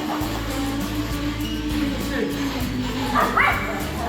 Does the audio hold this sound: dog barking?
yes